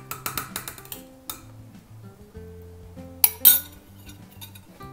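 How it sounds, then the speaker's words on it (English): A spoon clinks and scrapes against a pot of Polish young beet soup (botwinka) with beet stems and lemon, with several quick metallic taps, then quieter stirring and a couple of sharper clinks. "Give this a little stir."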